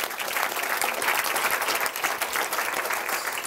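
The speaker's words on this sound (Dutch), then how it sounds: "Laten we nog een keer klappen voor Eltje Bos voor haar presentatie." Warm audience applause for a presenter at a cultural kick-off gathering, a full, even burst of many people clapping that holds steady from start to finish, close and fairly loud, with no talk.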